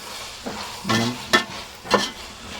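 Vegetables for veg pulao being stirred in a hot pan, with a few distinct scraping stir strokes over a low steady sizzle, close and moderately loud.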